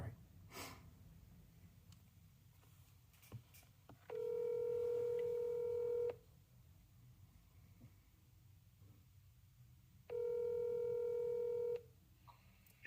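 An iPhone dials a phone number, giving two steady electronic keypad tones of about two seconds each, separated by several seconds of quiet room background.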